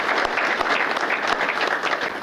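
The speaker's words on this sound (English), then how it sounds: "So let's have a round of applause for those other" Applause at a mayor's employee recognition awards ceremony, a steady dense round of clapping from an audience honoring award nominees, continuous and fairly loud throughout.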